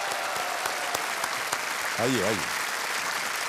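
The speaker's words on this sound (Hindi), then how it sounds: "तालियां जारी रखिएगा" Studio audience on KBC keeps up continuous, even applause with a few sharper claps standing out, while someone briefly speaks over it partway through.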